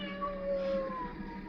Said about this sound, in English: What was that? Oh, that's my cat.